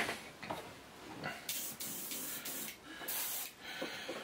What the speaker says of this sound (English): So now we're ready to spray the dark green.